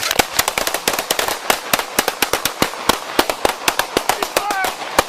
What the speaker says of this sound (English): HQ, shots fired by police.